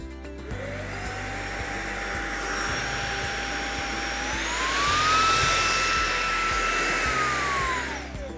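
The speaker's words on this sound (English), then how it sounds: "electrified wand that runs the stick vacuum power head" A Smart Mop stick vacuum runs steadily with a long LED crevice tool fitted to its electrified wand, giving a loud, close motor whine that climbs in pitch midway and then drops back.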